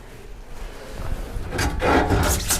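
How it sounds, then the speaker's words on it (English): A scrub brush rasps across a silkscreen during cleaning, starting as soft rubbing and growing into louder, rough scrubbing strokes up close, with no voices. "We may need one little quick scrub, so I'm totally fine if you grab a scrub brush"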